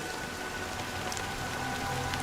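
Steady rain pours down in the game Honkai Star Rail, in the Penacony dream world, a dense, even hiss of drops on surfaces with scattered brighter patters, loud and continuous with no voices.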